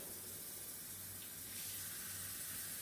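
Water runs from a tap into a cooking pot in a home kitchen, a steady rushing splash that goes on throughout.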